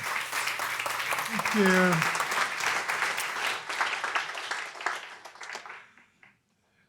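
An audience at an author talk breaks into sustained applause that swells and then fades out over several seconds, with a short spoken thank-you partway through.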